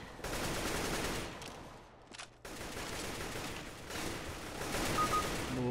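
Rapid automatic gunfire from a CS:GO round, with dense overlapping bursts, a brief near-silent gap, then sustained fire and clanking weapon mechanisms, loud and close, with no talk.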